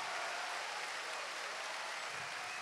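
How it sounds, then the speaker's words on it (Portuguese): A church congregation at a Sunday service applauds, a continuous, fairly loud wash of clapping that stays even throughout the short stretch. "Vamos lá, aplauda, aplauda, aplauda,"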